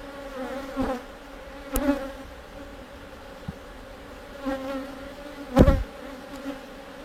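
A mass of bees drones steadily around an open hive, a continuous low hum with individual insects swelling louder as they pass close by, several brief buzzing surges rising above the constant background.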